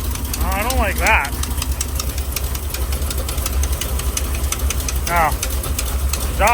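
A 1953 Chevy pickup truck engine idles with a rough, ticking exhaust leak, steady and close, while a voice speaks briefly in a couple of spots.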